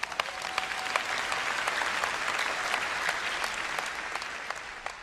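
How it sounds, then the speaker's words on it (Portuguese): A church congregation applauds during a Portuguese-language sermon, a steady, dense wash of clapping from a large crowd that holds evenly throughout. "Vamos, aplaudir o Rei da Glória."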